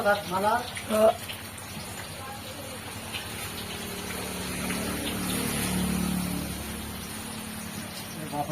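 Water poured out over muddy ground in a village yard to rinse the mud away, making a steady gushing splash that swells in the middle, with faint voices in the background.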